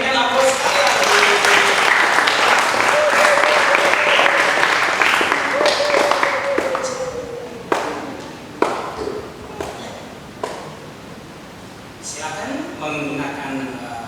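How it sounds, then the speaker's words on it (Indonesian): An audience applauding in a church, a dense, sustained clapping that fades after several seconds into scattered thuds and taps, with someone speaking over the end. "Disilakan sambut mereka dengan berikan aplaus sekali lagi."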